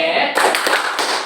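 A group claps the 'tepuk sambal' rhythm in a few quick, close hand claps, with a voice calling out over them.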